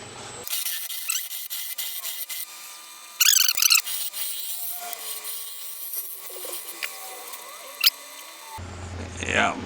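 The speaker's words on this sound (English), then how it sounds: "We'll get out the bigger scraper and we'll go ahead and" A large scraper cuts a natural-edge walnut bowl spinning on a lathe, making a continuous rasping scrape with sharper, louder bursts of chatter partway through.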